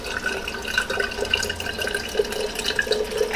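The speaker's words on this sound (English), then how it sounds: "take this unsalted chicken stock and pour about 1 cup of it in this jar" Unsalted chicken stock is poured into a marinara jar, a soft, steady trickle and splash of liquid lasting a few seconds.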